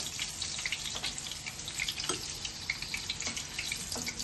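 Chicken cutlets fry in shallow oil, a steady dense sizzle and crackle heard close up, with occasional soft clinks and no talking.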